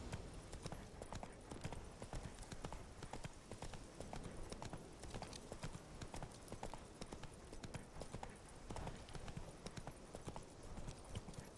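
Roach the horse trotting in The Witcher 3 video game, hooves clip-clopping in a steady, busy rhythm over continuous game ambience, with a brief spoken line.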